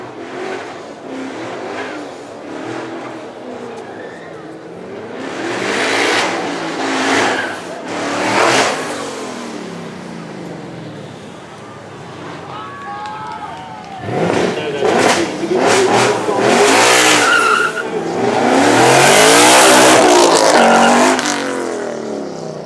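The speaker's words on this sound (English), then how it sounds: "this is no ordinary Mustang. He got this back 4 days ago after he strapped not 1 but 2 turbos to it." A twin-turbo Ford Mustang accelerates on a track at a supercar event, with several loud surges of revving and roaring passes that rise and fall, mixed with crowd noise and someone talking over it.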